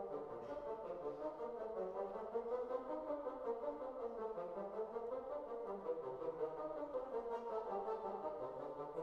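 Four bassoons playing a staccato quaver counter melody together, a steady stream of short detached notes in low, reedy tones, moving stepwise in a continuous rhythm throughout.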